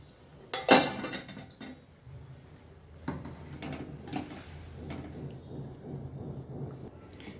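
A utensil stirs black urad dal porridge in a cooking pot, giving scattered scrapes and light clinks against the metal, with one louder knock near the start, all fairly quiet and close, with no speech.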